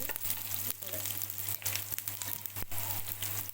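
Chopped onions frying in oil give a dense, steady sizzle with crackling pops and occasional stirring scrapes, close and continuous with no voice over it.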